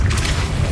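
A deep, heavy boom rolls out from a Depulso spell cast in the video game Hogwarts Legacy, one short, loud, low blast heard alone.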